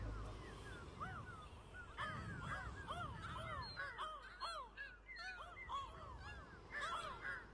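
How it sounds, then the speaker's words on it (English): Seagulls call in the Burly Men at Sea video game, a flock of shrill, rising-and-falling squawks overlapping each other over low background music, fairly faint and without speech. "Seagulls sound so shocked."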